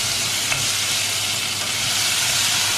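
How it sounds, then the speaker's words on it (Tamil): Small onions sizzle steadily in hot ghee for instant sambar, a dense continuous frying hiss with a faint stir near the start, close and fairly loud with no talking. "அதை வந்து அந்த நெய்யில் வந்து 2 மினிட்ஸ் ஃப்ரை பண்ணி விடலாம்"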